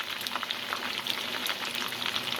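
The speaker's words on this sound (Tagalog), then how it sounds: "At ang pagpirito niyan, ayan. Medyo ano siya sa oil." Chicken for tinola frying in hot cooking oil, a steady, dense crackling sizzle with fine spattering pops running evenly throughout, fairly close and with no talking.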